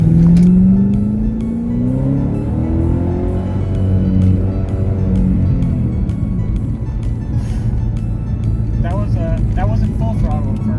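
A 2011 Ford Shelby GT500 V8 engine accelerating, a loud low drone rising in pitch through the first seconds and holding steady, with brief voices near the end.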